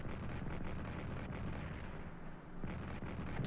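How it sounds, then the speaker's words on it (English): Artillery fire in the World War I strategy game Strategic Command, heard as faint, continuous booming rumbles with scattered sharper pops, quiet throughout and with no talk. "we can see the artillery is firing in the Caucasus"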